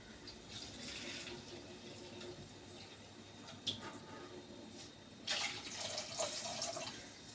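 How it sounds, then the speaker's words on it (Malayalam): More water poured into a pot of fish curry: a quiet, steady trickling pour that swells into a louder, splashier stream near the end, with no talking. "ഇതിൻ്റെ കൂടെ കുറച്ചുകൂടി വെള്ളം ഒഴിച്ചു കൊടുക്കണം."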